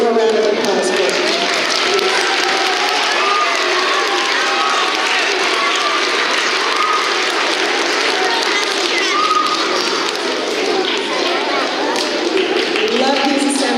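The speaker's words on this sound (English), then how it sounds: "One more round of applause, please." A school assembly audience of young children claps for a long, sustained stretch, a dense roomful of applause with scattered voices and chatter mixed through it.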